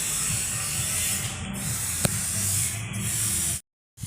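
An electric kitchen grinder whirs loudly and steadily up close as it grinds garlic with water for a green chicken recipe, then stops abruptly near the end.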